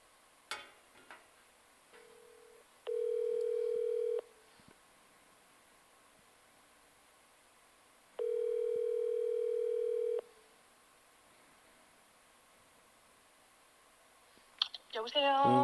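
A telephone tone sounds twice as a call connects during a church service: two steady, medium-loud buzzing tones, each about one to two seconds long, separated by quiet background with faint clicks.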